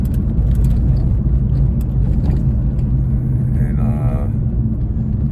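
A Mercedes-AMG coupe in Sport Plus mode drives along with a steady, deep engine and road rumble filling the cabin throughout, holding an even loudness with no sharp revs.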